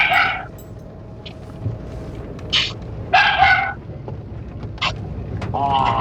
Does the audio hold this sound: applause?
no